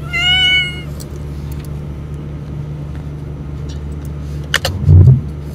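Kitten meowing in the video game Night in the Woods: a short rising meow at the start over a steady low engine-like hum, followed by a few faint clicks and a brief thump near the end.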